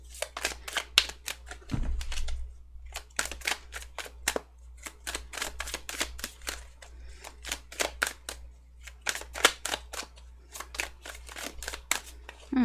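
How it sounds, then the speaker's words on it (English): A deck of tarot cards is shuffled over and over in rapid bursts of crisp riffling clicks, close and fairly quiet, with brief pauses between rounds. "how long are you going to make me shuffle?"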